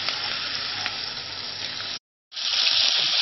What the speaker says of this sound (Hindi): लहसुन अदरक को हम अच्छी तरह इसमें फ्राई कर लेंगे।